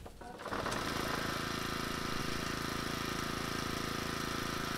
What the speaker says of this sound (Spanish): Me arranca el puto motor ya de una vez